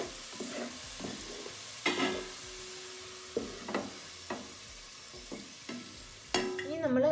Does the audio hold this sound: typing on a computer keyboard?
no